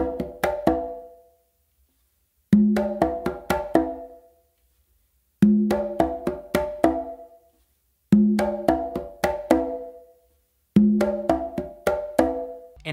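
Conga played alone in a repeating reggae groove, bursts of quick hand strokes separated by short pauses, with bright, sharp open slaps cutting through.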